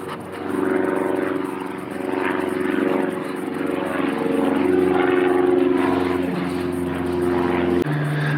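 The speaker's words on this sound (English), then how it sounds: "I'm going to wait for that plane to go over." A propeller airplane passes overhead during garden camping, a loud steady droning hum that swells and fades gradually, with no talking over it.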